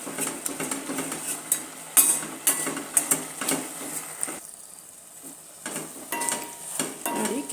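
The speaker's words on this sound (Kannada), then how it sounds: "ಚೆನ್ನಾಗಿ ಮಿಕ್ಸ್ ಮಾಡ್ಕೊಳ್ಳೋಣ." A spoon scrapes and clinks against a pan while carrot halwa is stirred, giving repeated close metallic strokes over a light sizzle, with a brief quieter pause in the middle.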